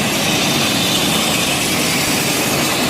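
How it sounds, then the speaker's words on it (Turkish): An electricity generator runs with its pulleys and belts turning, a loud, close, constant mechanical roar and whir that holds steady throughout, with no talking. "en baştaki jeneratör elektrik üreten diğerleri kasnaklar kayışlar"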